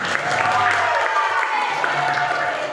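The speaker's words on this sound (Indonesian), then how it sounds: "Tepuk tangan untuk kedua." An audience claps for the second team at a Fahmil Qur'an quiz competition, a sustained wash of applause in a hall with a low amplified hum and some faint voices underneath.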